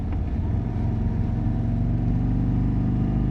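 An Indian motorcycle's engine pulls hard on the road, a loud, deep, steady drone that rises slightly, with no talk over it.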